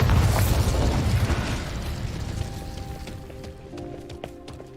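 A fiery Incendio spell blast in Hogwarts Legacy bursts loudly at the start, then rumbles and fades over several seconds as faint tonal game sounds ring out near the end.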